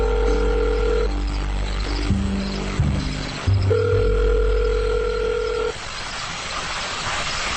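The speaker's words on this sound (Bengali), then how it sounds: "সে বাসায় ঢুকেই সুহানাকে ফোন দিল।" Telephone ringback tone in a Bengali radio drama, a steady sustained electronic beep tone repeating in long pulses over soft background music, with no talk.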